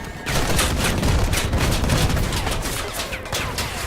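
Rapid bursts of shotgun fire in the vehicle combat game Crossout, loud, dense and continuous, crackling blasts overlapping for the whole stretch with no talk.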